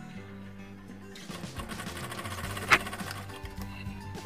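A sewing machine stitches ladies' pants at a low, steady level, with a sharp click partway through and soft fabric handling around it.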